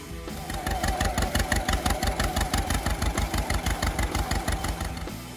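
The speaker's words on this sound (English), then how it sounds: "John Deere's legendary 2-cylinder engine, known for its distinctive pop-pop sound" A John Deere Model B two-cylinder tractor engine chugs rhythmically and steadily with evenly spaced pops, close and loud, running for several seconds without any talk.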